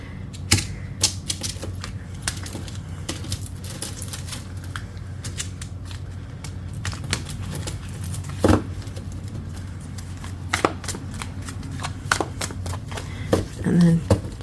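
A deck of tarot cards is shuffled nearby, giving irregular bursts of crisp clicking and riffling taps, with some speech alongside.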